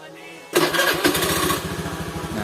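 A motorcycle engine, just serviced for a knocking CVT, fires up after a brief starter whir and settles into a steady, close, rhythmic idle with a faint voice beneath.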